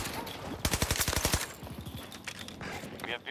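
Automatic weapon fire in the video game Battlefield 2042, a rapid burst of close, loud shots followed by a second shorter burst and scattered distant gunfire, with faint game noise underneath.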